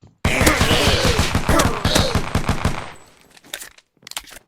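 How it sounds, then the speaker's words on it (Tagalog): Rapid automatic gunfire in a video game, a dense burst of loud shots for about three seconds, then a few scattered bursts after a short pause, with faint voices in the background. "Oo nga, sayang bala mo], Gab."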